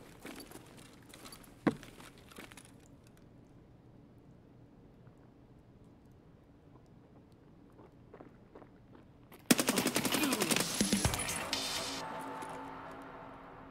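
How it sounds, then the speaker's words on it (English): Bursts of video game gunfire, a few isolated shots early on, then a loud sustained volley of rapid automatic fire crackling through the final seconds. "They're shooting a lot."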